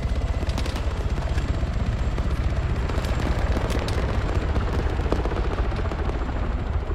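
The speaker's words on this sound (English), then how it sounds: "Chopper, yeah, chopper coming in." An approaching helicopter in the combat game Arma 3 gives a dense, rapid rotor chop that throbs steadily and loudly throughout, mixed with bursts of distant gunfire.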